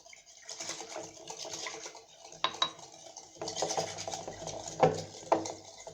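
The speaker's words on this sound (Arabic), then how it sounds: "غادي نبدا نحرك حتى يتجانسوا ليا العناصر مزيان" A spoon stirs dough ingredients, milk and oil among them, in a bowl for butterless, eggless croissants: soft continuous scraping and swishing, with a few sharper clicks against the bowl, fairly quiet and with no talking.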